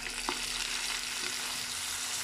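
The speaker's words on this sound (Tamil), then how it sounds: "இப்போ வெங்காயம் வதங்கிடுச்சு, நம்ம இந்த தக்காளி பழத்தை போட்டுடலாம்." Chopped tomatoes go into a pan of sautéed onions and fry with a soft, even sizzle and hiss at low volume, steady throughout with no voices.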